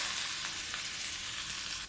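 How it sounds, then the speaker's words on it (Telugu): Bitter gourd frying in a pan, a bright continuous sizzle with a few soft scrapes as it is stirred, close and steady. "కాకరకాయలు వేగిపోయి కదండి"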